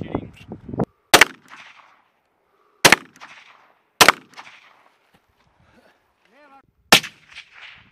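Four sharp, loud sniper rifle shots ring out at an outdoor European sniper team competition in Germany, irregularly spaced over several seconds, each with a brief echoing decay, with a few quiet voices between them.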